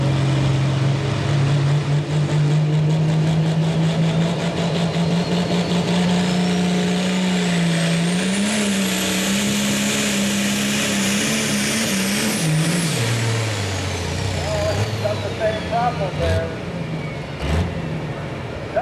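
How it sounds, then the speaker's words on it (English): A pulling tractor at a tractor pull in Reading, PA, drones loudly and steadily at high revs, the engine note rising gradually then dropping sharply as it lets off, with air-brake-like hiss near the end. "just a pulling tractor."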